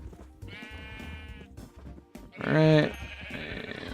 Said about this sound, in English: Little sheepies, come hither.